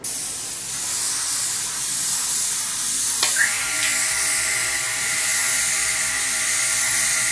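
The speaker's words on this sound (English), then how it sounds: "Now I'm going to spray a candy over it." An airbrush hisses steadily while spraying Cobalt Blue candy paint over graphics on a Harley-Davidson motorcycle tank, a continuous close airy spray with a brief click partway through.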